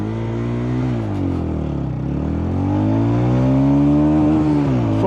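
TVS Ronin motorcycle engine revs steadily and loud, its pitch dipping and then climbing as it pulls through the gears, with a continuous close-up drone and no talking.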